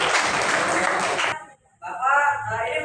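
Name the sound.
applause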